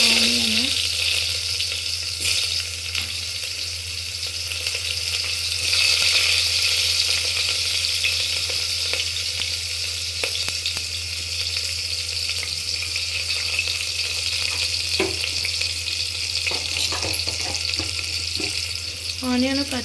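Onion and green chillies fry in a pan with a continuous close sizzle, accompanied by occasional clinks, running water and a voice faintly in the background.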